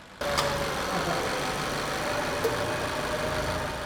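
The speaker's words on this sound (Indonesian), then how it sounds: "suara mesin ini pastinya tidak terdengar halus seperti mobil baru ya" A used car's engine starts up and settles into a steady, slightly rough idle, a continuous close drone with a faint tick now and then.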